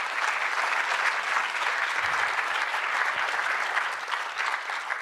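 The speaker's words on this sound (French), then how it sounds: "on peut applaudir toutes les personnes." An audience claps steadily and densely at a public talk event in Sion, Valais, a sustained wash of applause from many hands with no voices over it.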